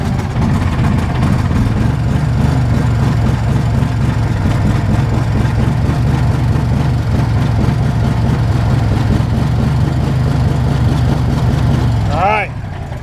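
A vehicle engine that has grown harder to start after sitting runs at a steady, loud idle close by, a continuous low rumble that cuts off abruptly near the end.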